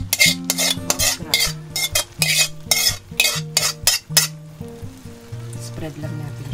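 Sautéed okra frying in a hot oiled pan, loud and close, with a rapid run of metal utensil scrapes and clanks that then give way to a steady sizzle.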